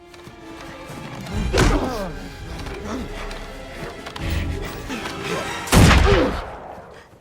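Several loud gunshots and heavy impacts crack out irregularly over a rumbling, dramatic soundtrack from the film The Call of the Wild, one blast especially close and loud.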